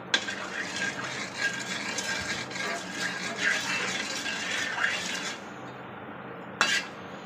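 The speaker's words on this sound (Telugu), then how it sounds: "పచ్చళ్ళకి శనగ నూనె అయితేనే బాగుండిద్ది ఇలా ఒక గంటతో నూనె పోసుకోవాలి" Groundnut oil poured into a pan for a coriander pickle, a steady close liquid pour with faint metallic clinks and a brief sharp knock near the end, no talk.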